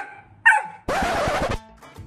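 A dog barks close by, a short yelp followed by a longer, loud bark of about half a second, then quiet with faint tail sounds.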